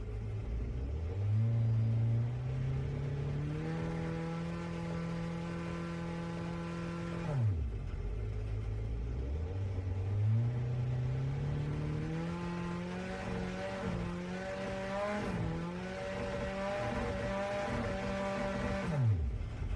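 A 2008 Lexus SC430 GT500 race car engine in Gran Turismo 7 revs up and holds high pitch, drops away, then climbs through repeated shifts, a loud, close, continuous engine drone with no talk.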